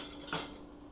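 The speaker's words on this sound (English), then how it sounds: "add in your spices, let them bloom for about 30 seconds. Stirring vigorously." Spices are stirred into melted butter in a pot, producing a single brief utensil scrape against metal at close range over a faint background hiss, with no talking.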